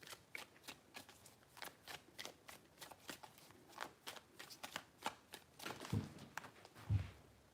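Tarot cards are shuffled by hand in a quick series of crisp riffling bursts, close and fairly quiet, ending in a few heavier taps as the deck is squared.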